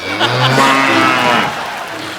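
A buffalo moos in a long, loud, drawn-out low bellow lasting most of the moment, then fading into quieter background noise, with no talk over it.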